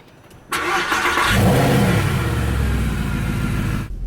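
A Mercedes SLS engine fires up with a sudden loud bark, surges into a rev, then settles into a rumbling idle close by.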